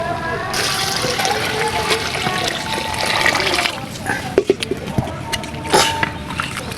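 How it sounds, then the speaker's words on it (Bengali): Boiled water poured into a pot of cooking vegetable rice khichuri makes a close splashing, gurgling pour with clattering bursts toward the end, heard under a voice talking. "তার মধ্যে ফুটানো পানিটা দিয়ে দিচ্ছি"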